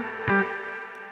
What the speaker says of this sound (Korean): 리버브가 뭉개진 게 들리기 시작하죠